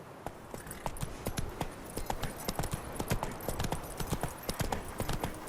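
Roach the horse in The Witcher 3 trotting with quick, steady clip-clopping hooves, close and fairly loud, keeping a brisk even rhythm throughout, with a faint voice briefly underneath.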